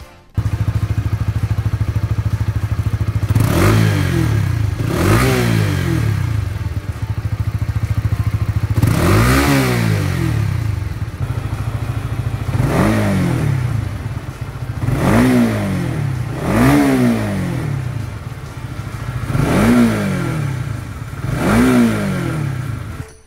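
A 2021 Honda CBR150R on its stock exhaust idles with a steady low hum, broken by about seven sharp throttle blips. Each rev rises and falls quickly, loud and close, with no talking.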